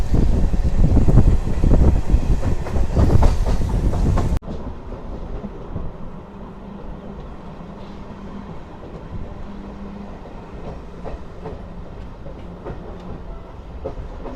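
A MEMU passenger train between Renigunta and Nellore rumbles loudly along the track with rattling clatter for several seconds, then the noise drops abruptly to a quieter, steady hum and faint rumble.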